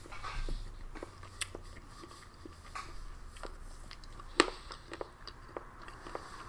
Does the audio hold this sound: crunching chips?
yes